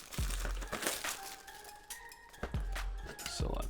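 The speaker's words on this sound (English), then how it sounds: "let's go ahead and unbox it to start" Cardboard packaging for a Pandora Portable Power (P3) charger crinkles and scrapes as it is handled and opened, with bursts of crackling close by alongside a few brief thuds and light clinks.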